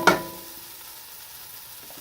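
Potatoes and parsnips frying in a pan, opening with a sharp scrape of a stir followed by a steady low sizzle that fades to a soft crackle, close and alone.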